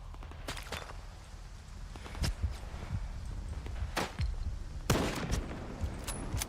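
Sharp, separated gunshots from the video game STALKER, several cracks spaced a second or so apart with one louder, fuller shot near the end, over quiet ambient background.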